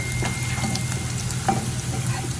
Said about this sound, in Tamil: ஆனியன் நல்லா ஃப்ரை ஆகிட்டு இருக்கு.